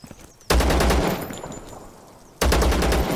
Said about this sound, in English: I think I dodged his shots there